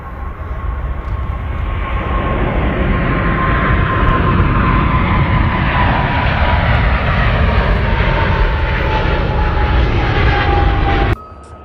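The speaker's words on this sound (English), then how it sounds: "The aircraft is pushed back, and taxiing to the runway starts." Jet airliner at a Moscow airport taxiing to the runway after pushback, a loud steady engine roar with a sustained whine, constant throughout and cutting off abruptly near the end.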